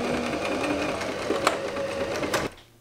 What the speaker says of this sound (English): And then you just sew it together.